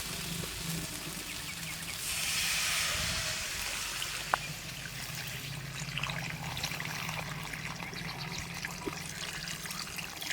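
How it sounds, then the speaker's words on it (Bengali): Water is poured into a pot of potato and cauliflower being cooked for a Bengali bhetki fish curry, a soft, steady trickle and splash that is quiet and continuous with a brief clink partway through. "এবারে জল দিয়ে দেবো।"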